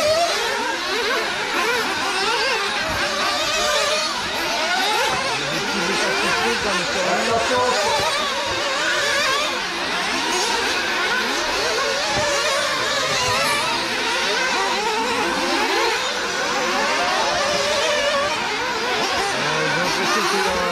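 Several 1:8 nitro RC buggies, including a Sworkz S35-4 and a Kyosho MP10, racing at a track, their small engines buzzing and whining continuously in overlapping high-pitched revs without letup.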